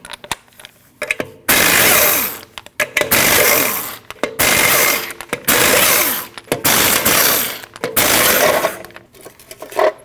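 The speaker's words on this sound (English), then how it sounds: "you have 8 21mm lug nuts. You need to remove those" An impact wrench rattles in several loud bursts of about a second each, broken by brief pauses, as the eight 21mm lug nuts come off the front wheel of a 2012–2021 Nissan NV2500 van.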